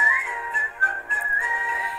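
A melodic whistled tune, clear and close, with a steady wavering pitch and short breaks between phrases.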